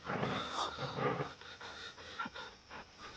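Rapid, rhythmic panting breaths from a dog, close and fairly quiet, continuing steadily throughout.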